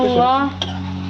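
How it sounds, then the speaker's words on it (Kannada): A ladle stirs green chilli prawn in a metal pot: a short scrape and one sharp clink stand out against a steady kitchen hum, with a brief voice-like murmur at the start. "ಸೌಟಿಂದ ಮಿಕ್ಸ್ ಮಾಡ್ಬೇಕು, ಅದು ಮಿಕ್ಸ್ ಆಗಬೇಕು ಇವೆಲ್ಲಾಕಿ"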